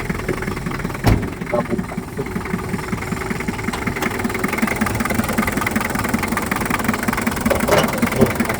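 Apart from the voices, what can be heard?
1989 Daihatsu Taft GT 4x4 engine idling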